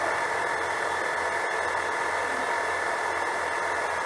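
A 1500 W JoJo variable speed water pump runs steadily, a close and even whirring hum with a hiss-like motor drone that holds constant without pauses.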